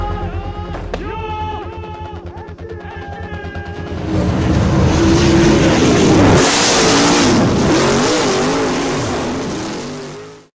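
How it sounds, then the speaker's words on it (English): Race cars roar at Seven Stars Speedway during a memorial race event, engines revving loudly and swelling as cars pass close by, the noise building to a sustained roar before fading out. "in this episode we head to Seven Stars Speedway to take part in the Patrick Bryner Memorial Race"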